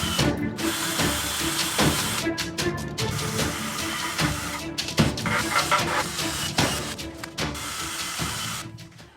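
A power tool with a polishing attachment works on the exhaust of a Porsche 997 Turbo, whirring and grinding in bursts with brief stops and restarts, loud and close, with no voices.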